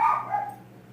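Pet dogs barking indoors, a short close yelp-like bark that trails off into a quieter whine over a steady low hum.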